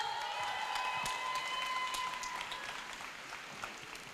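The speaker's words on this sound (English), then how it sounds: "Can we have a huge round of applause for her?" Audience applause at a college event celebrating girls' rights at St. Xavier's College, a steady wash of clapping that holds fairly level and slowly fades, with a faint whistle-like tone in the first half.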